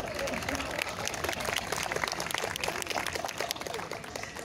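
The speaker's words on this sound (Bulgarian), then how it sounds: "Моля, аплодисменти" A crowd at an outdoor march for freedom and the family breaks into applause, a dense, continuous patter of clapping with a rough, crowd-filled texture and some voices underneath.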